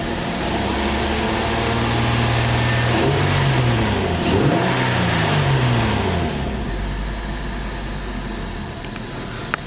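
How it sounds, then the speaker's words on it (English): A used car's engine revs up steadily to around 3,000 rpm, pitch climbing and falling through a sustained roar, then settles back to a lower idle hum near the end. "I just wanted to show you what revving it would do"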